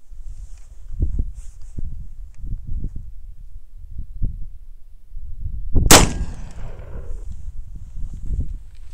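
A single loud gunshot from a shotgun firing Federal number 8 shot at a Baofeng AR-152 radio in a stress test, preceded and followed by quieter footsteps and handling sounds outdoors.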